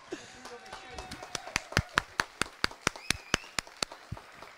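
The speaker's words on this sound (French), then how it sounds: "on applaudit l'auctionneur" Applause for an auctioneer at a horse sale ring: a run of distinct, fairly sparse claps in a quick rhythm, with a voice speaking underneath.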